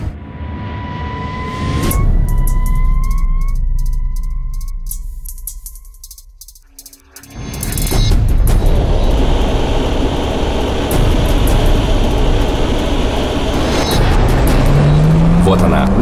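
A Subaru WRX STI races a MiG-35 jet along a runway; a rising engine whine with gear shifts fades into near silence, then a loud roaring rush returns and holds to the end, under a commentator's talk.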